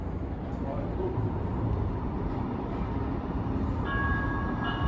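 Metro Blue Line light rail train pulling into a station, a steady broad rumble and rolling hiss of the railcar with a high tonal whine or chime rising near the end; people talking faintly in the background.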